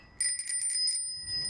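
A bicycle bell on a bike with a basket rings in a quick burst of bright metallic trills, then a fainter ring follows, close by and alone.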